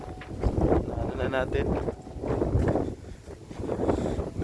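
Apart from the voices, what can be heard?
strong wind blowing on the microphone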